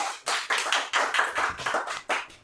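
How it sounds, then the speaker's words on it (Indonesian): Brief round of applause for a podcast guest, a small group clapping at close range in a quick, steady, slightly uneven rhythm. "Tepuk tangan untuk Pak Yoyo."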